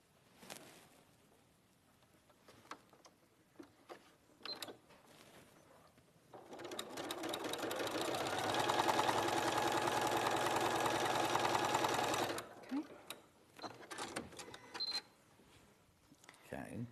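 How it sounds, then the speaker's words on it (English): Sewing machine with a walking foot stitching along a marked line at a short stitch length, a steady close mechanical whirr running for several seconds, framed by quiet handling clicks before and after. "I'm just going to stitch along that line."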